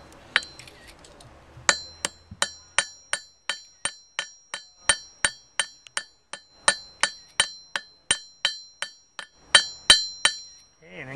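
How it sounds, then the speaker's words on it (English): A steady run of bright, ringing metallic strikes as a smith hammers an Anglo-Saxon arrowhead on an anvil, over twenty close blows at a quick, even pace with a few clustered taps near the end, no speech. "you're just hitting the spear, and you hold it here, and you hit it here"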